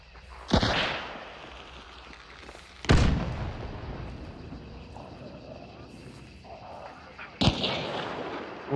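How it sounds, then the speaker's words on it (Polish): Grenade blasts and gunfire in the video game Hunt: Showdown, with three sharp, loud booms spaced several seconds apart and a rumbling tail, over a low background bed and occasional player chatter. "Rzucam im granat."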